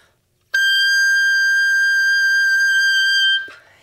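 An oboe's highest note, piercing and very high, sounds suddenly and holds steady for about three seconds before stopping abruptly.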